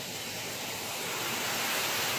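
A waterfall pouring into a deep green mountain pool on rocky Qiyao Mountain near Chongqing, a constant close roaring hiss that builds slightly, with no voices.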